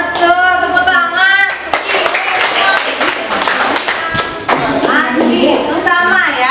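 Children in a classroom clap their hands together in a loose burst that runs on under steady overlapping voices, with a teacher and kids talking throughout.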